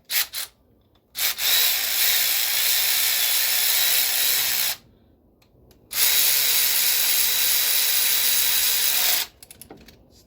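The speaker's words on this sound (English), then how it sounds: "Then we're gonna use a ratchet." A ratchet snugs up spark plugs on a 2011 Chevy Cruze, sounding as two long, buzzy runs of rapid clicking close by, separated by short pauses, with a few brief clicks at the start and end.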